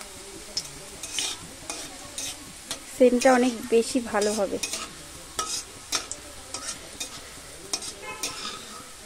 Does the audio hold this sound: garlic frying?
yes